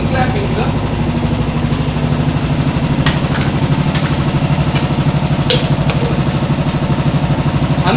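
A Royal Enfield EFI motorcycle idles close by, a loud, steady, rhythmic single-cylinder thump with someone talking over it.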